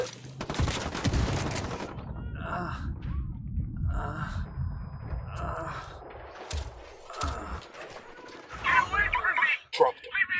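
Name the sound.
gunfire in the video game Ghost Recon Wildlands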